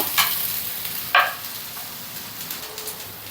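Ridge gourd pieces with turmeric being stirred in a pan over medium flame, a couple of short scraping strokes with faint sizzling and quiet room noise around them.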